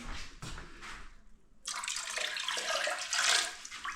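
White vinegar, 5% strength, poured from a cup into a toilet bowl gives a soft trickle that stops, then a steady, brighter splashing pour follows for about two seconds, close and moderately quiet.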